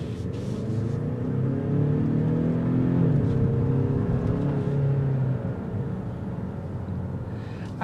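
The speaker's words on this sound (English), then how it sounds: "sport mode, and here we go." A 2023 Kia Stinger GT-Line accelerating in sport mode, its engine rumbling steadily and building slightly in pitch from inside the car, continuous and fairly loud throughout.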